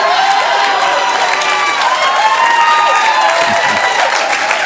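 A live audience at a comedy monologue cheers, whoops and applauds loudly, a dense, sustained roar of crowd noise that stays constant throughout.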